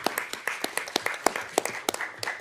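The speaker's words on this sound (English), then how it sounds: "Let's give them all a round of applause." Applause at a board meeting, a small group clapping with many sharp overlapping hand claps in an irregular, moderately loud burst.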